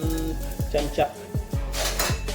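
Onion frying in a pan for a potato curry, a soft sizzle under rhythmic metal spoon taps and scrapes against the pan, several strokes in quick succession, close by.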